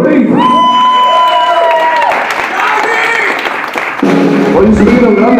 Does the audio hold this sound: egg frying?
no